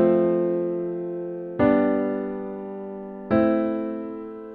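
Three sustained chords are played in turn, stepping through a simple IV–V–vi progression. Each is struck cleanly and rings out, fading slowly before the next one enters, with no other sound present.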